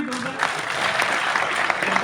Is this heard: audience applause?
yes